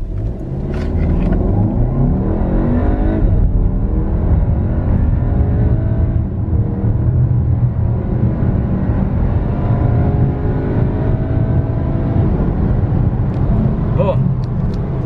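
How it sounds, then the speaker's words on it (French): Audi Q3 45 TFSI with four-wheel drive accelerating hard to 100 km/h, a loud continuous engine roar rising steadily through the gears for about fifteen seconds, with a person's voice heard over it. "on est censé atteindre les 100 km/h en 6 secondes,"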